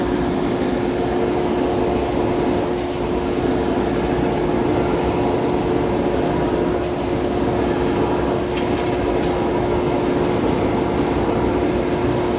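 A shop dust collection system driven by a 5 horsepower motor runs in a steady, loud drone with a constant hum, with a few faint knocks and clatters over it and no talking.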